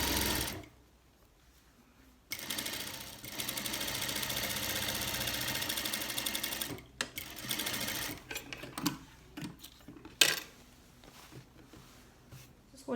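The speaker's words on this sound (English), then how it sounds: "then finish this edge on overlocker" An overlocker stitches the edge of a cargo-pants front pocket bag in a steady, fast mechanical whir, with a few stops and restarts toward the end; no one speaks.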